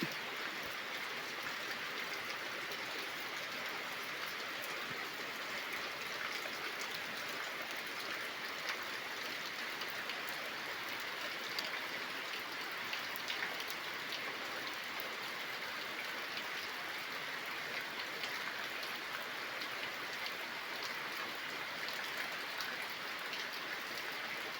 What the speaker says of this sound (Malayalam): സൂപ്പർ മഴയാണ്